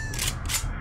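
A weapon reload in the zombie survival game 7 Days to Die, two quick mechanical clacks and ratcheting creaks within under a second, close and moderately loud with no voices.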